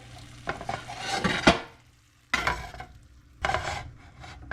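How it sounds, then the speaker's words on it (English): Pasta being stirred and shoved around a hot pan, three separate scraping, sizzling strokes with brief pauses between, close and fairly loud. "let me move the pasta over here"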